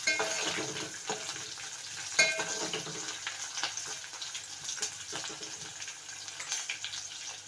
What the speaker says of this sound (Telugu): ముందుగానే ఆయిల్లో కాస్త ఉల్లిపాయ మిర్చి దూరగా వేగనివ్వాలి.